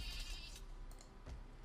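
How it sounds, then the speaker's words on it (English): Sheep bleating in the Total War Battles: Kingdom game, with a few short bleats close up over a steady background of game ambience and music and no talking. "I'm just gonna shear some more sheep"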